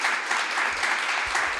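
Steady applause from a lecture audience, a dense wash of many hands clapping at even loudness throughout, with faint low thumps underneath.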